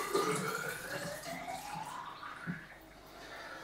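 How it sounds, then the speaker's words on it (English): A fruit juice and wine mixture pours into a container nearby, a soft liquid trickle and splash with gurgling, rising in pitch as the vessel fills, then tapering off. "pour some of it out into here"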